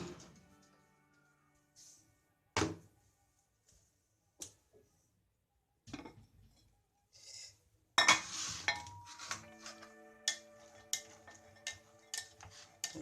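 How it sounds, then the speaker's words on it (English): A spoon stirs rajma in a pot after microwave cooking, giving sparse isolated knocks at first, then a busier run of metallic clinks and scrapes against the pot in a quiet kitchen. "I'm stirring it for the first time."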